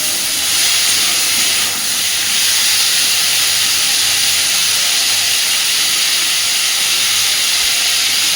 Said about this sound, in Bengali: লবণ আর হলুদটা দিয়ে আলু পটলটাকে সুন্দর করে একটু ভেজে নেব।